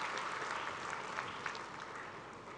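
A graduation ceremony audience applauds the medical college patrons, a steady, fairly distant wash of clapping from many hands that holds evenly throughout with no voices over it.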